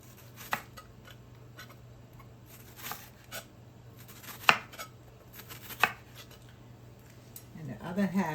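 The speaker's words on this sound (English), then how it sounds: "So some will be cut up small, and some will be cut up in slices a little bit longer." Onions and tomatoes being chopped with a knife while preparing a spicy sardine gravy: a handful of sparse, distinct cuts land at uneven intervals over a quiet room with a low steady hum.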